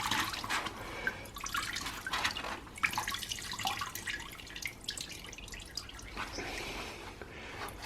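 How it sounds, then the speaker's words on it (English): Kerosene dripping and trickling from a squeezed dirt bike foam air filter, a close run of irregular splashy drips and short wet squeezes, quiet and with no talk. "So I just dip them into the kerosene, soak them, and then squeeze out as much of the kerosene as possible."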